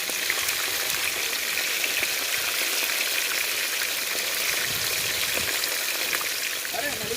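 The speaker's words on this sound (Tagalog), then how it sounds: "Ang lakas ng ulan na." Heavy rain drums steadily on surfaces during outdoor backyard cooking on a cold, windy afternoon, a dense continuous hiss mixed with frying sizzle, loud and unbroken throughout.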